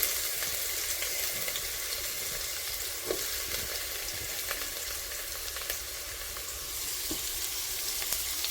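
Onion fries in a pan for an evening snack, giving an even, bright sizzling hiss that holds steady throughout with a few faint clicks and no talking.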